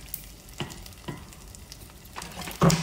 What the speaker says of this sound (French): Et là, je le fais bien revenir dans le beurre.